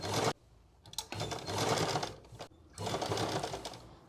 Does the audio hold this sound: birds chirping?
no